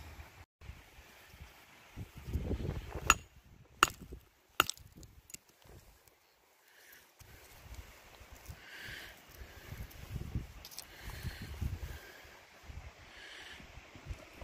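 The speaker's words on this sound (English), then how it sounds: "let's go ahead and hammer this one open and see what's in this one." Sharp metallic strikes of a hammer breaking open a quartz rock sample ring out, several hard hits in quick succession early on, followed by quieter scraping and handling noise against a faint outdoor background.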